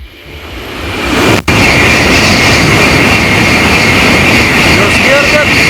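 A Shinkansen high-speed train rushes past nearby at about 200 km/h. The roar is loud and sustained and rises briefly near the start, with faint chirps of small birds toward the end.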